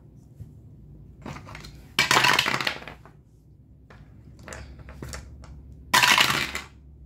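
Two dice are rolled for a tabletop board game, giving two short, loud rattling clatters on a hard surface about four seconds apart, with quiet room noise between them.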